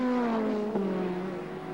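Touring race car number 20 accelerating away at Phillip Island in a 1990 Australian Touring Car Championship round, a loud continuous engine drone with rising harmonics that holds steady and fades slightly as it pulls away.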